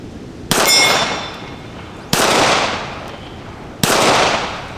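Three sharp, loud gunshots from a new Colt Cobra revolver fired outdoors, spaced about one and a half seconds apart, each a sudden crack followed by a long ringing decay, with no talking between shots.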